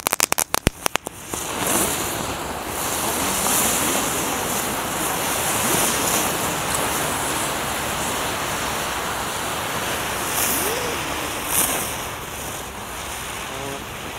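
Lit firecracker spinning tops burn with a sustained rushing hiss and faint whistling swirls after a few sharp crackles at the start, fairly distant and continuous outdoors.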